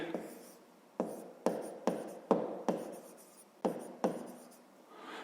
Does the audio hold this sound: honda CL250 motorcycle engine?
no